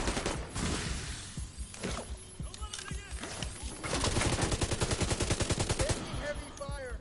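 Gunfire during a firefight in the video game The Division 2, with dense bursts of rapid automatic shots and scattered single cracks, loud and close, building into a sustained rattling volley.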